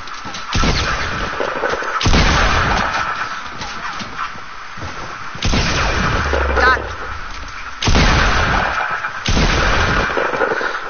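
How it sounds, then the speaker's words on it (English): Bursts of heavy video game gunfire come in repeated loud volleys, separated by short lulls, with talking mixed in. "I still am getting shot at"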